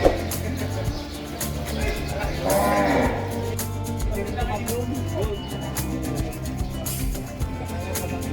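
Cattle or water buffalo moo at Urdaneta City Livestock Market, one long low call rising out of a constant noisy market din of other animals and distant human chatter.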